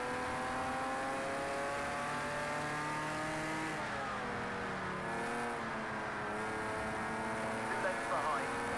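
Porsche from the Porsche Legends pack in a racing game, engine revving steadily and shifting pitch as it is thrown through corners, loud and continuous with a brief tire squeal near the end, someone talking over it.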